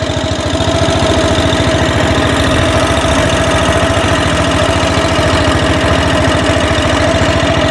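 Motorboat engine drones steadily on the Sarayu river near Ayodhya, a loud, close, rapid low chugging with a constant pitched whine over it, running without pause and with no voices.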